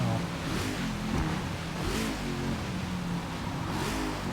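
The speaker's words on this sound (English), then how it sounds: "That car's fast, whatever it is." A car engine revs hard in the Forza Motorsport racing game, a steady, loud roar with rising and falling pitch and no talking.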